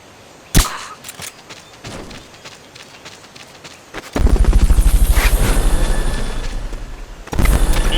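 A helicopter in the video game Metal Gear Solid: Peace Walker arrives halfway through as a loud, steady rotor thumping, following quieter footsteps and a sharp impact, with the rotor beat cutting back in at the end.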